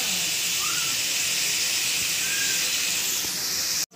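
Garlic, ginger and tomato fry with a splash of water, giving a loud, continuous hissing sizzle that holds steady throughout before cutting off abruptly at the end.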